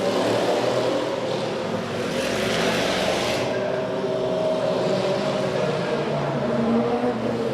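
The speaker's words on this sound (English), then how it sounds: "The old school prototype cars are out." Historic prototype sports cars race past at a track, a loud, sustained engine roar, their pitch rising and falling as they go by, no voices present.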